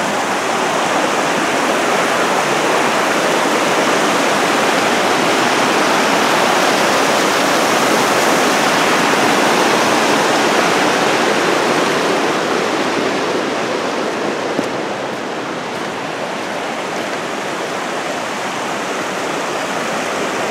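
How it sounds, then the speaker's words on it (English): Talapus Creek rushes beneath a trail bridge in a loud, steady broadband roar of flowing water that continues unbroken with no voices. "Talapus Creek making its way down to where it converges with Olallie"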